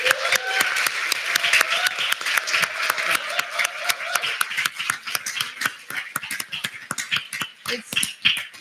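Audience applause at a ceremony, a dense, sustained patter of many hands clapping at moderate distance that thins toward the end.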